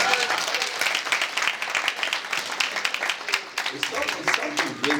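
Banquet audience applauding a professor after an introduction, a dense continuous patter of many hands clapping at close range throughout, with some voices mixed in.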